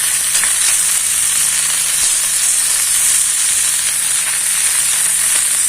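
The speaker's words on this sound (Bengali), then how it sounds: "মাছগুলো এবার ভেজে নিচ্ছি" Spice-coated fish fries on a hot griddle with a loud, dense, unbroken sizzle and crackle heard up close, with no voices.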